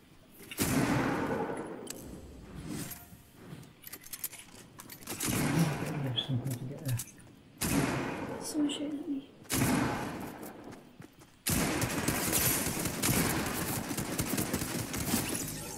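Gunfire crackles in a Fortnite Battle Royale match in choppy bursts of rapid shots and thuds that start and stop abruptly, mixed with game sounds, while people talk over it.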